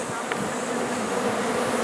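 Honeybees buzzing steadily at an open beehive during a drought year, a dense continuous drone close by with no speech over it.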